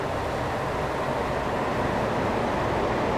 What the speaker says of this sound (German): das ist einfach unser einer Zug, der gerade wirklich schön ein bisschen Geräusche macht